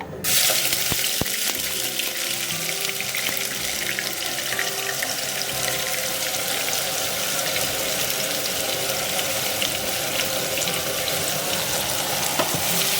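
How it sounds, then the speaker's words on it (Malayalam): Ginger garlic paste dropped into hot oil for a Malai egg curry, a loud continuous hissing sizzle with a sharp clack at the start, steady and close, no talking. "ചൂടായ ഓയിലിലേക്ക് നമ്മൾ നേരത്തെ അരച്ചു വെച്ച പേസ്റ്റ് ചേർത്ത് കൊടുക്കാം"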